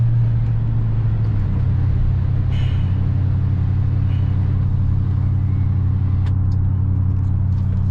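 A 2003-2006 Chevrolet Silverado 1500 pickup cruising at about 40 mph, steady low cabin rumble of engine and road noise with no voices.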